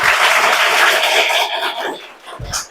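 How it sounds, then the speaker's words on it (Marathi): Schoolchildren clap together during a buzzer quiz in a classroom: a dense burst of applause that fades after about a second and a half, then a brief scatter of lighter claps. "टाळ्या वाजवायचं बाकीच्या मुलांनी"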